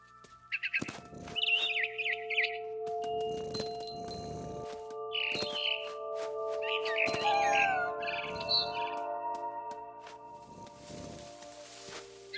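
Sparse, bright barn swallow chirps and short tweets in a video game sound over a quiet background with soft steady tones and a few clinking sounds.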